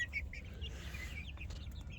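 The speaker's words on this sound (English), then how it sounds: "Get all the curious chickens." Backyard chickens cluck and chirp in short bursts at close range over a low steady background rumble, with no one talking.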